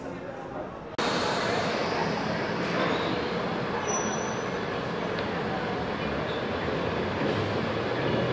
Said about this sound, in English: here we are on the platform waiting for the train.